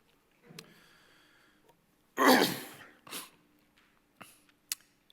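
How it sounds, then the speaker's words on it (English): A single harsh cough up close, followed by a smaller second cough and a few faint sniffs and breaths in a quiet room. "now I have the ruins of or the remnants of a cough"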